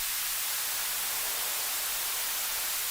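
A steady, unbroken hiss of filtered white noise, bright and airy with the low end thinned out, holding at constant loudness throughout.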